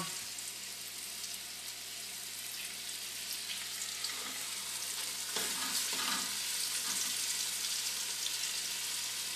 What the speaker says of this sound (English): Now I'm going to get it in the pan to brown.